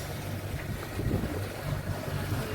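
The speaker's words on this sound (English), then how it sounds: "There's a boat coming in with us." Boat arriving in the harbour at Hiva Oa, a low steady engine drone and water wash blended with wind buffeting the microphone, continuous throughout.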